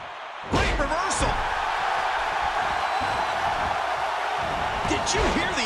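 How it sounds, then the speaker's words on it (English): A clothesline hits in the wrestling video game WWE 2K15 with a loud slam thud near the start. Steady crowd noise and commentary voices continue under and after it. "Did you hear the impact from that clothesline?"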